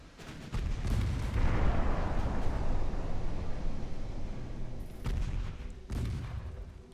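Warship artillery in the naval game Ultimate Admirals: Dreadnoughts fires heavy rolling booms that swell and sustain, followed by two sharper blasts near the end.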